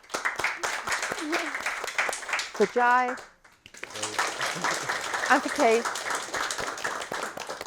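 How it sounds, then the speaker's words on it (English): An audience claps for participants in a cooking show, scattered applause running under someone speaking, with a brief quiet gap in the middle before the clapping resumes. "I think they all individually need a round of applause."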